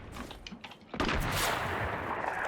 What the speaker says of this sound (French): je vais essayer de le sniper